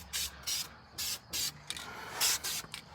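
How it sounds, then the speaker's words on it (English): Aerosol spray paint hissing onto the lid of a master cylinder on a Ford F100 shortbed truck, in about six short, loud bursts of steady hiss separated by brief pauses. "Can't hurt to spray the top, right? Those lids get rusty too."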